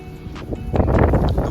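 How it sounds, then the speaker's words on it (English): Wind buffets an outdoor microphone beside a tuned motorcycle, a low rumbling roar that swells and stays loud after a quieter start. "The wind is messing up my shot."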